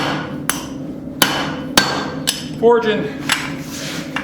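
A hammer drives a drift into hot steel while a small cross peen hammer is being forged, giving five loud, sharp metallic strikes spaced roughly half a second apart, with a brief scraping ring in between.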